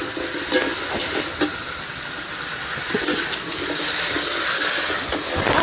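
Vegetables go into oil-rich fried masala in a pan for a fish dish, giving a loud continuous sizzle and hiss with a few scraping stirs and clinks, swelling louder toward the end.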